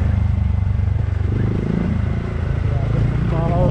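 A motorcycle runs close by along a village lane, its low engine rumble steady and loud throughout, while people talk over it.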